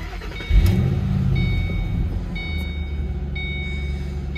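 A low-mileage 5-speed Ford Mustang GT convertible cranks and its engine catches, settling into a deep, steady idle rumble close by, while a faint repeating warning chime beeps intermittently over it.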